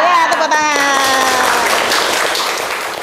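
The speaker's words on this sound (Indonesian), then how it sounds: "Ya, tepuk tangan." A class of students applauds together in a classroom, a burst of clapping that continues and gradually tapers, with a voice speaking over the start.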